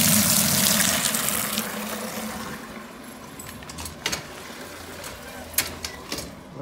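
Water runs steadily into a bucket being filled for hydro dipping Vans shoes. The gushing starts loud, then settles into a softer, steady flow, with a few clinks and knocks near the end.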